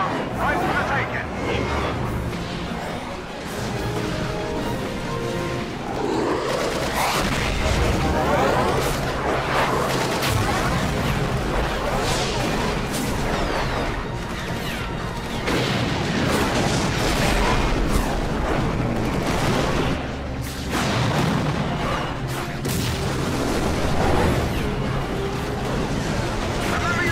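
Repeated heavy booms of cannon fire in the video game Final Fantasy XII The Zodiac Age, over a dense battle din, with shouting voices and crashes layered throughout.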